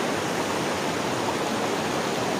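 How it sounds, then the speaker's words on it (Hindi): A river rushes through jungle with a steady, dense broadband roar of flowing water. The sound is even and unbroken, near and fairly loud, with no voices. "शोर आ रहा होगा पानी का"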